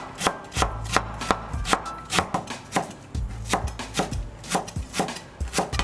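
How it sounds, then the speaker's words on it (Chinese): Green radish being cut into small pieces with a knife on a board: a long run of crisp, evenly spaced chops, close and distinct, some landing in quick pairs, with no talking. "绿萝卜对半切开，先切片儿，再切丝，然后再切成约1厘米长的小段儿。"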